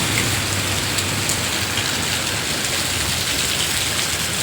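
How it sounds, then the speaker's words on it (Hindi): Heavy rain pouring down on a street where school buses and vans pass, a dense, steady hiss of raindrops, loud and close throughout with no talking. "इतना बारिश हो रहा भाई।"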